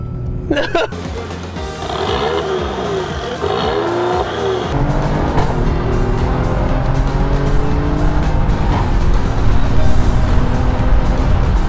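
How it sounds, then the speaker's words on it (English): A Mercedes GLE 450 Coupe with four-wheel drive and staggered wheels accelerating hard and braking, with a loud, close engine roar that builds steadily and tires squealing at the start. "the braking is spectacular as well, because not only do you get speed, you get impressive braking"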